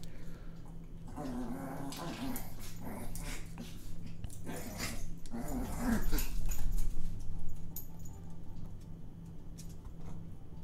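A dog whimpers and yelps with growly, excited noises throughout, close and fairly loud, over a steady low hum with a person speaking faintly at times.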